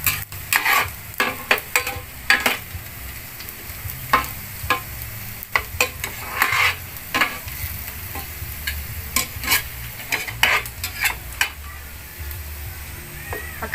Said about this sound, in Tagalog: Pwede na nating ilagay ang bawang. Hintayin natin na brown ang bawang.